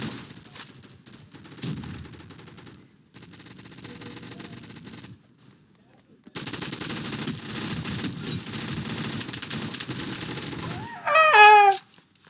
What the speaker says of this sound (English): He's auto firing.